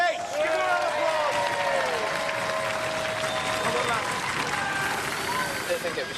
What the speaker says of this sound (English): Ladies and gentlemen, GBH, give them a round of applause.